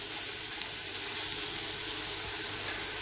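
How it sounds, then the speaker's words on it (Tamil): Onions sautéing in a pan for a South Indian potato roast give a steady, even sizzle that carries on without a break, close and moderately loud, with no talking over it. "வதங்கட்டும்."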